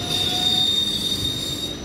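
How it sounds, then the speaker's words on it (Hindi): Wheels of an up Naihati–Bandel local train squeal at Hooghly Ghat station, a steady high-pitched metallic screech over loud rumbling rail noise, continuous and close throughout. "नोएडी वेंदेल लोकल ट्रेन"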